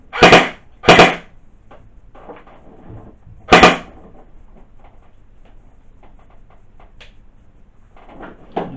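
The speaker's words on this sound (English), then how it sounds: "If I can just quickly show you the blowback on it, which I do like, and auto." A G&G GR4 airsoft rifle fires with blowback on full auto in three short rattling bursts close by, followed by quieter mechanical clicks and handling.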